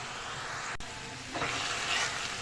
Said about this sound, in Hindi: प्याज जो है फ्राई हो गई है ऑयल के अंदर, गुलाबी हो गई है